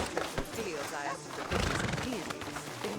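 A horse in the Western video game Red Dead Redemption 2 whinnies loudly up close while its hooves clop steadily underneath, with someone talking over the sounds.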